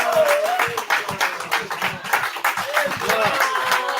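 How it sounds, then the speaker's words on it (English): Applause and scattered clapping from a convention audience fill the hall, steady and fairly loud, with a voice or cheering mixed into the crowd noise throughout. "Give her a round of applause, Sister Robin Ezel L."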